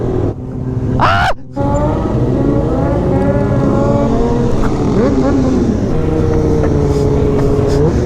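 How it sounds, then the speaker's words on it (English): Big motorcycles roar past close by, a loud sustained engine drone with rising and falling pitch sweeps as they pass, one brief sharp burst early on and steady mechanical noise throughout. "It's so scary hearing the fucking big bikes coming at you"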